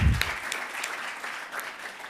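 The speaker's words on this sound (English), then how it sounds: "can we please give a round of applause to ourselves for making all of these things happen?" An audience at a clean energy legislative preview event applauds steadily, a dense patter of clapping hands that carries through the whole moment.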